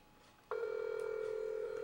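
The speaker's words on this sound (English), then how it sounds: "It's ringing. You can hear it, can't you?" A telephone call on speakerphone rings out as a steady electronic tone that starts abruptly and holds, faint and alone.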